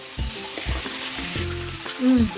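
Cabbage tumbles into a pan of frying garlic and is stirred, giving a close, steady sizzle with scraping strokes and a brief louder hiss near the end; no one speaks.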